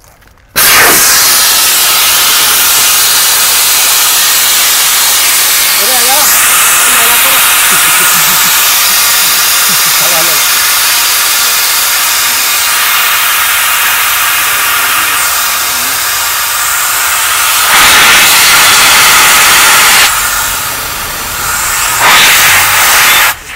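Air rushes out of a New Holland 3630 tractor's tyres in a loud, continuous close hiss that runs on for over twenty seconds, briefly dipping and surging near the end, with a voice faintly talking underneath.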